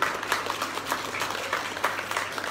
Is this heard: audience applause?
yes